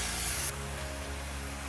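Steady hiss of a spray bottle misting solution onto a Cybertruck window during tint installation, close and continuous, slightly easing after a brief louder burst.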